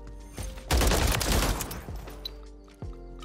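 Rapid automatic fire from a Baby Holger 556 rifle in a first-person shooter game, a dense loud burst of shots lasting under a second and a half, preceded and followed by single reports, with faint game tones beneath.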